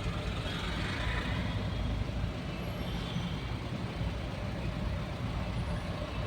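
Road traffic on the Electronic City to Hosur route near the Bommasandra flyover and metro station, crawling through a jam: a dense, steady rumble of trucks, buses and cars with no pauses, close by and fairly loud throughout.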